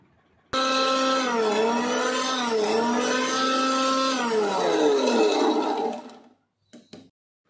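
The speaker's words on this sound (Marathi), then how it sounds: "ते मी आता कढईमधलं मिक्सरच्या भांड्यामध्ये ओतून ते बारीक करून घेणार आहे।" An electric mixer grinder whirs loudly as it powders roasted spices, starting abruptly, holding a strong motor whine that wavers in pitch for several seconds, then cutting off, followed by a couple of short clatters.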